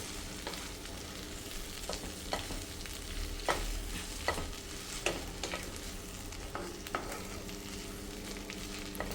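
Mint leaves fry in oil in a pan, a constant soft sizzle broken by sharp scrapes and clicks of a stirring spoon every second or so, close and alone.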